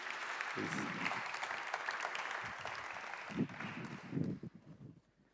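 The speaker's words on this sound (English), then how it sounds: "Please, everyone, a big round of applause for Ms. Danda and Professor Müller" Audience applause at an arts and technology symposium, a moderate steady patter of clapping with faint murmurs and brief voices underneath, tapering off toward the end.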